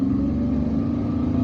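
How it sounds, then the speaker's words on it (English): A car drives up a steep, hilly street in Algiers. Its engine gives a steady, close, mid-pitched hum and rumble that holds at an even level the whole time, with no talking. "And when a street is so hilly, it's difficult to drive."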